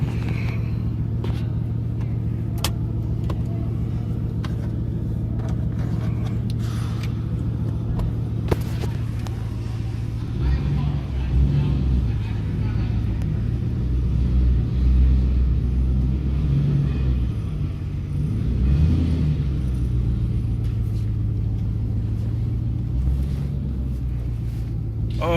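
Ford Mustang GT fitted with SSS Terminators exhaust backing out, a steady deep low rumble of the engine at close range that swells slightly midway, with no talk.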